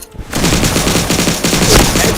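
Rapid automatic gunfire from the Point Blank shooter game, loud and sustained after a brief quiet start, a dense rattling burst of shots continuing for two seconds without talk.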